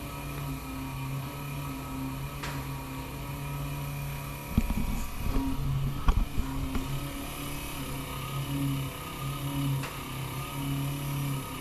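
An electric fuel pump on a Model A Ford runs steadily, a constant tonal hum with a low pulsing drone, joined midway by a burst of clicking and rattling as fuel begins flowing toward the sediment bowl.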